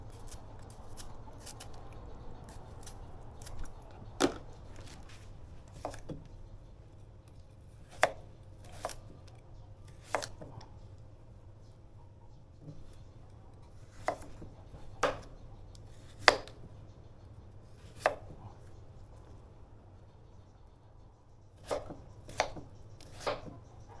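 Knife with a smooth blade chopping ingredients on a board for a Thai minced pork and fresh shrimp shrimp-paste dish, giving irregular sharp chops that come close and alone, some in quick pairs, over a low background hum.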